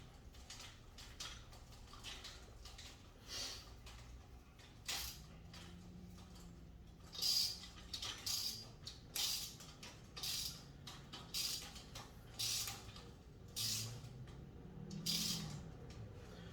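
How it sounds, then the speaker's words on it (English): A clamp is cranked down onto a Razor MX500/MX650 scooter front suspension part, giving a series of close, quiet metallic clicks and creaks in short bursts with pauses between. "Clamp this thing down."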